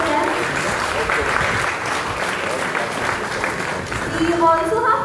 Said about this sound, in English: Can I have two rounds of applause for them?